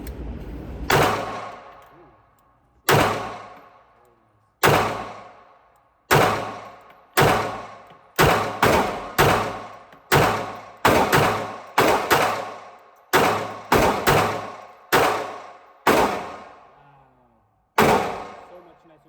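Sharp, loud gunshots from a Smith & Wesson Bodyguard 2.0 pocket pistol, a magazine emptied in about seventeen irregularly spaced single shots with short decaying echoes between them.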